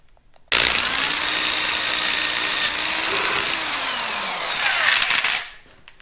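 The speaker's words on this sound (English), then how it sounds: "drill's a little bit rough, I know. It's been through a lot." A rough, well-worn power drill whines steadily at high speed for several seconds, close by, drilling metal on a Caterpillar D2 pony engine cover flange, then winds down and stops.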